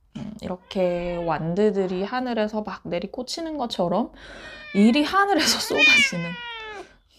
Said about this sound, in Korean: 저희 고양이가 갑자기 맞장구를 치기 시작했어요.